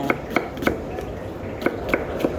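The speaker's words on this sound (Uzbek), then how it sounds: "Mana piyoz to'g'rash jarayoni." Onions chopped for plov, a knife striking the board in quick irregular bursts of sharp close taps over a low kitchen background.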